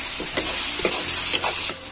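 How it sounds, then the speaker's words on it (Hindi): Masala with turmeric and red chili powder fries in a pan for an Assam-style fish curry, a steady sizzle broken by about five rhythmic scraping strokes of a stirring spoon, close and fairly loud. "अब इसमें हल्दी पाउडर ऐड करेंगे, लाल मिर्च पाउडर, अब इसे अच्छे से चलाकर भून लेंगे।"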